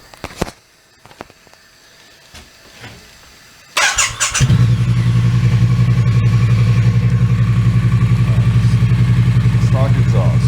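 A Triumph Street Cup motorcycle on its stock exhaust starts up after a few seconds of quiet clicks and handling noise, then settles into a loud, steady, close-up throbbing idle and rev that continues to the end.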